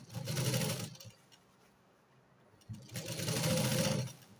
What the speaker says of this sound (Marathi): इथूनच मधून शिलाई द्यायला सुरुवात करायची